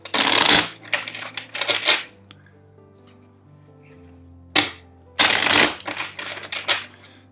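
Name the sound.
shuffling tarot cards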